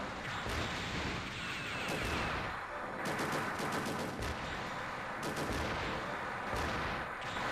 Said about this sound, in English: Oh goodness, I wasted a missile.